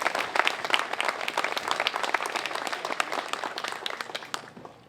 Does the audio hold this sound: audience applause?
yes